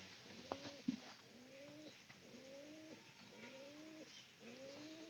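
Repeated soft pigeon coos in a steady rhythm, four or five drawn-out calls close by, with a couple of brief knocks near the start.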